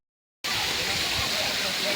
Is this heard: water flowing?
yes